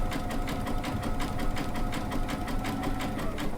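Baby Lock sewing machine stitching with a fringe looping foot, running at a steady, rapid mechanical rhythm, close and continuous for the whole stretch with no speech.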